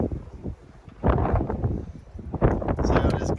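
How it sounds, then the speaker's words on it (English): Gusty wind buffets a microphone outdoors beside a truck being worked on, rising and falling in loud rumbling surges with rustling noise and no voices. "It's windy as fuck out here."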